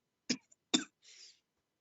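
Two sharp coughs in quick succession, close and fairly loud, followed by a short breathy exhale.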